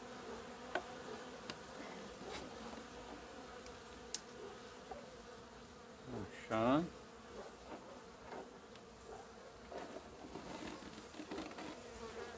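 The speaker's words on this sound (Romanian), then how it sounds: "Acum că au venit deasupra, le vedeți mai bine cât albine este." Honeybees swarm over an opened hive in spring, a constant low buzz of many insects close by, with a few sharper passes of single bees and a brief clatter of frames; someone speaks a single word.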